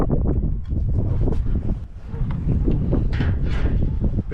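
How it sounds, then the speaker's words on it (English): Strong outdoor wind buffets the microphone at a metal fabrication spot, a loud, continuous low rumbling roar with gusty swells and no speech heard. "The wind's starting to pick up out here. Hopefully that's not coming through to the camera too bad."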